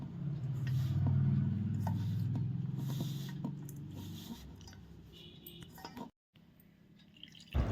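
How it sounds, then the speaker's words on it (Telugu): Water trickles into a flour batter made with amaranth leaves while it is stirred by hand, giving soft wet dripping and squelching close by; the sound breaks off briefly near the end. "కొంచెం కొంచెంగా నీళ్లు వేసుకుంటూ కలుపుకోవాలి"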